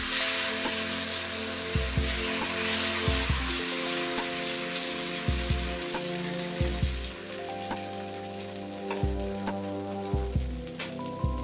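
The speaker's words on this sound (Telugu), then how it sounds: "సో ఇప్పుడు మనం దోశ అయితే వేసేద్దాం." Moong dal dosa batter, pesarattu made with ginger, sizzles on a hot griddle pan with a steady close frying hiss and repeated low thuds and clunks from the cookware.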